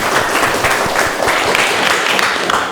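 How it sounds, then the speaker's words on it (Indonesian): An audience in a classroom session applauds, steady dense clapping that continues throughout at close range. "Tepuk tangan untuk kita semua."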